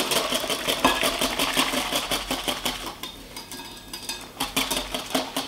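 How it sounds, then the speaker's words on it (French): A whisk or spoon beats a batter of egg, flour and hot milk in a bowl, a quick steady rhythmic clatter against the bowl up close, pausing briefly before resuming. "Et on vient bien mélanger, tout simplement."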